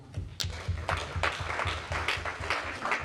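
A crowd at a Congolese youth party in Baltimore claps together in a fairly even, rhythmic burst of applause that stays loud and full throughout.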